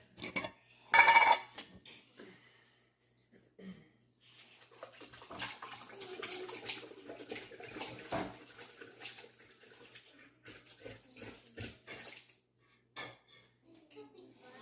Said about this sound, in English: I'll take a spoon and scrape those into the pan